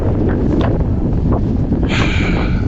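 Strong wind buffeting a microphone at a motorcycle tent campsite, a steady loud low rumble with gusting surges throughout, no voices.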